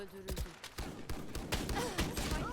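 Rapid gunfire rattles in the Valorant video game, with repeated sharp shots and bursts running through the whole stretch, mixed with game effects and a voice talking in the background.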